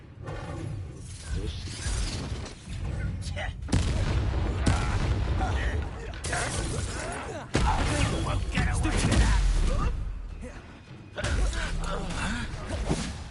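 Confringo spell explosions in the video game Hogwarts Legacy burst repeatedly through loud, dense battle noise, with booming hits and whooshes layered over one another and game voices speaking in between.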